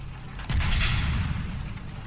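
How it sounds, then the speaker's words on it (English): A turret blows up in the game Cataclysm: Dark Days Ahead, a single heavy boom that hits suddenly, then rolls on as a dense, low rumble that slowly fades. "with a hell of an explosion, the turret is destroyed"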